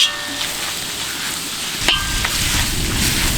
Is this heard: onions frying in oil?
yes